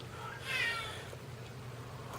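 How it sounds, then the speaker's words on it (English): A house cat meows once, a short clear mew near the microphone, standing out against low background hum in an otherwise quiet room with no talking. "Every goddamn time I record, he has to come in and meow"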